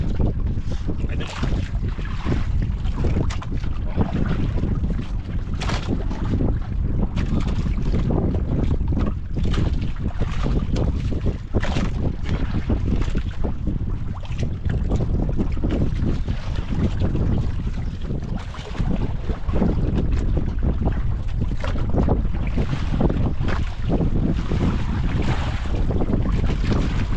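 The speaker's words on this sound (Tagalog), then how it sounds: "Lumakas ang hangin, lumakas din ang agos." Strong wind buffets the microphone in continuous roaring gusts, mixed with rushing water and a boat's motion, with no clear talking.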